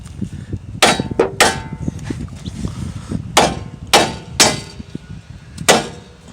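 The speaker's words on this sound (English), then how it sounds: "hit the knuckle right here until it pops free" A 2.5-pound hammer strikes a steering knuckle on a 2015 Mazda 3 during an outer tie rod replacement, giving about seven sharp metallic whacks at uneven intervals, close and loud, over faint background noise.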